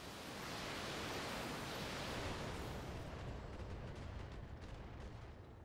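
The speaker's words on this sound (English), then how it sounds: "Firing on target." Mech weapons open fire on a target in the BattleTech game, a broad roaring rush of noise that swells and then slowly tails off, faint and distant-sounding, with no voices over it.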